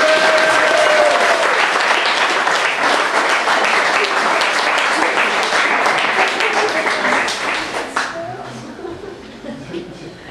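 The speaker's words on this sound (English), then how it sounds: "I think we need some applause for Ish's puppet." An audience at a Q&A session applauds a handmade puppet, loud and continuous for about eight seconds with a few chuckles mixed in, then tapering off as faint talk follows.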